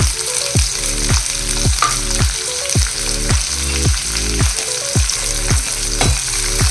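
Onion and curry leaves frying in hot oil for a ridge gourd curry, a loud, close, continuous crackling sizzle that holds steady throughout.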